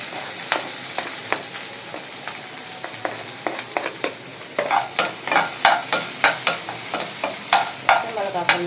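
Green chillies frying in a pan for carrot rice, a soft sizzle under repeated stirring and scraping strokes that grow busier and louder in the second half, with no talk.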